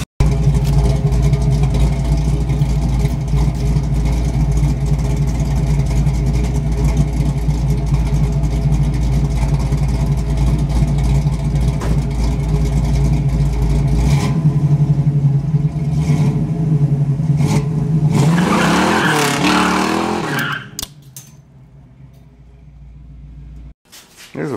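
A Pontiac Firebird engine idles steadily and loud in a garage setting, a constant low rumble that cuts out near the end as the motor stops.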